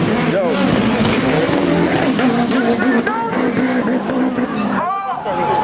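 A drag racing car roars past on the Antigua drag track, a loud engine snarl with gear-shift drops and a brief tire squeal, under people talking nearby.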